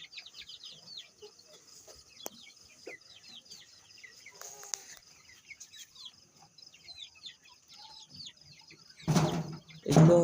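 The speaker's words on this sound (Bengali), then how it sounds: "এখন দেখেন আমার কোয়েল পাখি।" Quail calling inside a coop, with many small, busy chirps and clucks overlapping steadily throughout, moderately close; a couple of louder bumps or knocks occur near the end.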